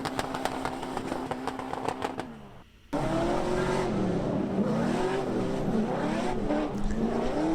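An LS V8-powered Nissan S14 drift car with a dog box at a Formula D Pro-Am round: a loud revving engine that cuts out briefly, then returns with continuous wavering engine roar and tire noise, close and sustained.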